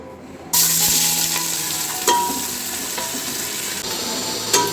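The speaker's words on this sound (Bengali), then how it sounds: "এবার আমি পেঁয়াজটা ভেজে নিই।" Onions frying in a hot pan give a steady, loud sizzle throughout, with a few sharp clinks of a utensil stirring against the metal.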